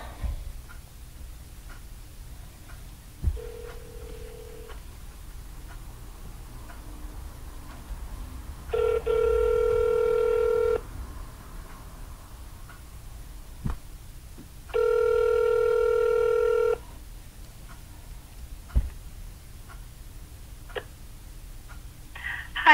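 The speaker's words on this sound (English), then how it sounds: "Let's give her a call." A phone call is placed: soft dial clicks and taps, then two long electronic ringback tones a few seconds apart, clear and close with quiet room noise between.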